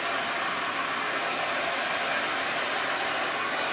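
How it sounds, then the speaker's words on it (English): A hair dryer runs on its low fan-only setting with no heat, powered from a 2000-watt pure sine wave inverter, giving a steady, unbroken broadband whoosh close to the microphone with no talking. "now we're going to go ahead and kick on the heat, the hair dryer on low"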